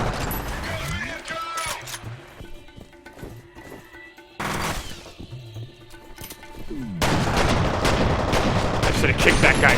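Shotgun blasts and gunfire in the first-person shooter F.E.A.R., loud bursts with heavy game combat noise, close and repeated, mixed with game sound effects.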